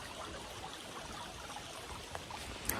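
A small, low river flows through Paris Mountain State Park, a steady soft wash of moving water heard nearby with no break in the sound.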